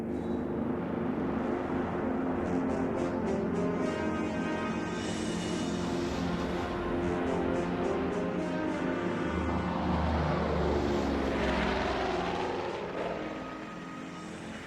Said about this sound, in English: a distant relative of Baron von Richthofen, will fly the Caribou.